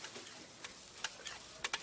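Steady sizzling of a cheesesteak on a hot grill, a continuous hiss punctuated by a few metallic clicks and taps.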